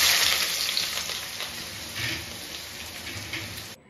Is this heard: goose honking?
no